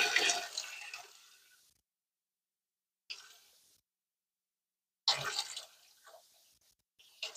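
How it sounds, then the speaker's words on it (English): Water from a cooking pot pours off into a sink as it is drained, two bursts of splashing about two seconds each, then a later, shorter stream with a few trailing drips. "now I'm going to run drain the water off the rest"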